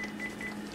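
A phone number dialed in a video game: a brief series of electronic keypad tones over a steady low background hum, quiet and without talking.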